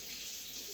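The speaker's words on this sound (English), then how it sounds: "So I'm gonna give my hands a little wash first" Hands being washed under a running tap, a steady broadband rush of water splashing into a sink, close and continuous for under a second with no voices.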